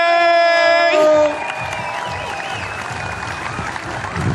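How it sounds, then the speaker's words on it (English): Audience applause and cheers ring out at the STIHL Timbersports Australian Trophy 2021 for the women's champion. A sustained tonal note fades after about a second, then dense, steady clapping and scattered whoops continue loud and close to the end. "give a big round of applause for our 2021 Australian Women's Champion"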